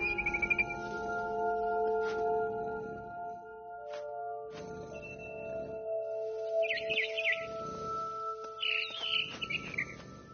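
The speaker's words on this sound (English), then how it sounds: "Then I heard chirping outside my window. It was a barn swallow going back to her nest." A barn swallow chirps in short, bright bursts within a video game, the calls standing clearly over sustained musical tones and soft rhythmic thuds, with no talking.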